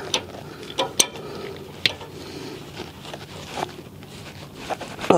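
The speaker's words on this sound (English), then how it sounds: "Make sure it's really tight. Let's tighten it more." Ratchet tightening a bolt on a 2002 GMC Envoy during rear suspension work, giving a few sharp clicking strokes spread through the clip amid faint workshop noise.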